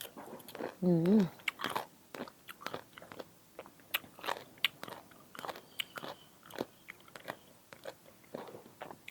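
Salt-pickled young mango is chewed with crisp, crunchy bites, a rapid series of close, sharp cracks and crunches with a short vocal sound near the start.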